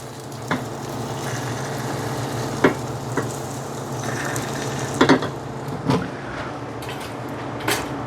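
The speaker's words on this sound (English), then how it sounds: "Let's move it with the spatula so it can cook nice and even." Eggs sizzle steadily in a frying pan while a spatula scrapes and pushes them around, producing several sharp scraping clicks over the continuous frying hiss.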